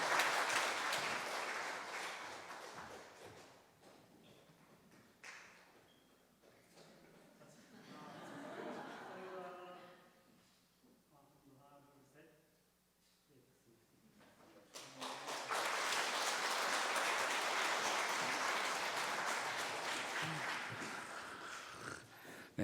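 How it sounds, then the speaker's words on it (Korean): A church congregation bursts into loud, sustained clapping to celebrate an infant baptism during a Korean Sunday service, then quiets while people talk and a baby fusses, before a second long round of applause swells again. "우리 박수로 축하하겠습니다."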